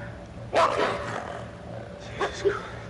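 A dog in the horror video game Until Dawn barks in two short bursts, a louder one early and a fainter pair near the end, heard at moderate distance over a steady low game-ambience hum.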